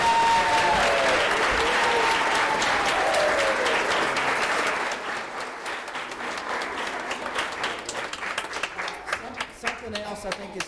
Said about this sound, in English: let's give all the students a round of applause